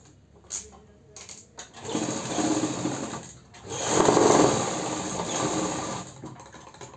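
Electric sewing machine stitching the neck of a Punjabi ladies' suit, running in two steady whirring bursts with short pauses, close and clear.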